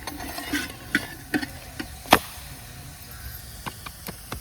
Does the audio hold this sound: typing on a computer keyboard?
no